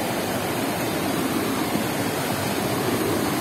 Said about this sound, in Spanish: Bueno, acá está un río